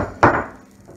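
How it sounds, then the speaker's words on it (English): A hand hammer strikes once, a sharp, close knock that rings briefly and fades within half a second, with no voices. "This is my favorite hammer in the world."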